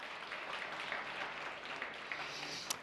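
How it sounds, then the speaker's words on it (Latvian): Audience applause at an award ceremony, a steady wash of clapping hands from a crowded hall held at an even level throughout, with no voices over it. "aplausi arī balvas nodrošinātājiem"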